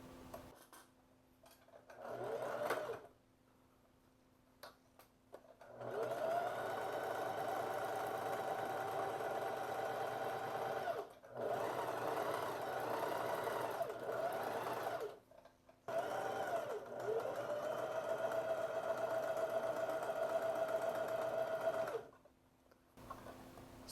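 Sewing machine stitching a 1 cm seam on pleated shorts, running in several steady whirring bursts separated by short pauses, close and clear.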